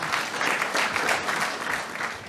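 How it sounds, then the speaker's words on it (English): Audience at an SME excellence awards ceremony applauding as the Governor is welcomed to the stage; dense, even clapping fills the room for the whole stretch, moderately loud with no talk over it. "Can we have a big round of applause?"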